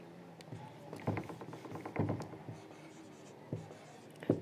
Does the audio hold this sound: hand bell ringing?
no